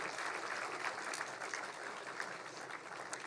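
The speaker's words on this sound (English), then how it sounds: "Let's give him a big round of applause" An audience at a startup conclave applauds a chief guest being welcomed on stage, a dense, fairly faint wash of many hands clapping steadily throughout with no voice on top.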